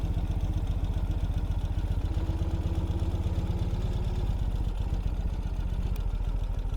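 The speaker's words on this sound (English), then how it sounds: "I can control everything pretty much at idle." A 2021 Ural Gear Up sidecar motorcycle engine idles steadily, a low, even, close-up thrumming pulse with light mechanical clatter, running alone with no talk.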